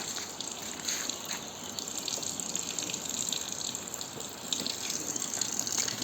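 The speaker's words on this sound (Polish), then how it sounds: "nalewam piwniczankę ze źródełka" Mineral spring water runs steadily from a spring tap in Piwniczna-Zdrój, Poland, a continuous splashing gush that stays constant throughout.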